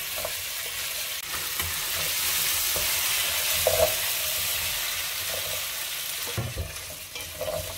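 Beef stew base frying in oil with salt in a pot, a steady close sizzle with occasional stirring scrapes and small pops, no talking.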